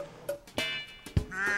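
Sheep bleat in a sitcom scene, a few short wavering calls at moderate distance, with no talk over them.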